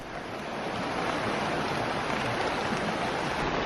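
A small river flows steadily through a park near a hot spring in Malaysia, a continuous broadband rush of water with no pauses, fairly close and unbroken by talk.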